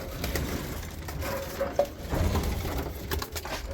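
Pigeons coo softly in a loft, low murmuring calls repeating under a faint rustle and patter of birds moving about, with no talk.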